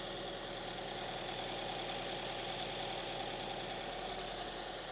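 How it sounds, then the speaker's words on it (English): A 2013 Toyota GT86 engine idles steadily as it settles from cold idle into normal idle, a smooth, even, fairly quiet hum with no voices. "just going off the cold idle into normal idle now"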